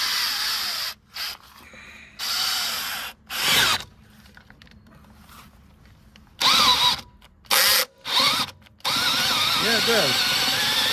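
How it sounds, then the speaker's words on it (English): A small cordless drill with an impact-style drive loosens a car's front wheel lug nut in a garage, giving several loud bursts of whirring and rattling broken by pauses, with a person speaking in between. "I don't think this little drill's gonna have enough."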